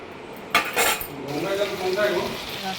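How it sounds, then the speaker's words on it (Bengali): Pointed gourd fries with tomato and potato in a pan under a steady close sizzle. Bright metal spoon scrapes and clinks come in a burst early on, and a softer stirring follows. No one speaks. "পটলটা দিয়ে এবারে ভালো করে নেড়ে চেড়ে ওই আর কি কষিয়ে নেড়ে চেড়ে"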